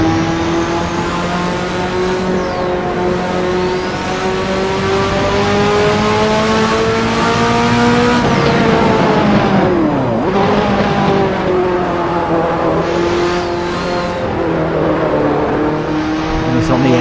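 Ferrari F40 in the racing game Assetto Corsa, engine droning and revving continuously at high volume, with pitch climbing through gears, dipping under braking, then rising again, while someone talks over it.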